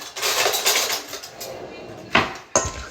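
Stirring food in a home cooking pot with a metal utensil gives a steady scraping and clinking, then two sharper knocks near the end, with no talk over it.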